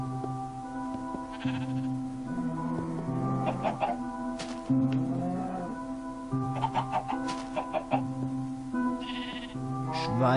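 Chickens cluck and bleating animal calls sound repeatedly in a Minecraft farm scene on Xbox 360. The calls come in short bursts over a steady musical background, with no talk.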